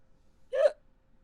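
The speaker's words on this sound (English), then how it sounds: "My hiccups are kicking my booty." A single sharp hiccup, short and fairly close, standing alone in near silence.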